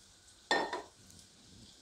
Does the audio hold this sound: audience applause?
no